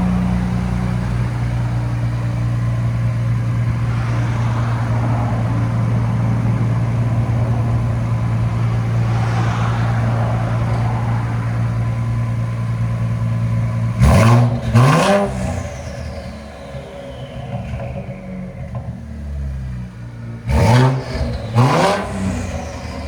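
A 2024 Ford Ranger Raptor with a 3.0L twin-turbo V6 and loop-pipe exhaust idles with a deep steady drone, then fires off two sharp blips of revving that rise and fall quickly, loud and close.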